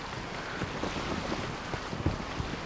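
A fast boat skims across the water in the Assassin's Creed Origins video game, a steady broadband rush of hull wash and wind noise with small splashy bumps, fairly constant and alone without talk.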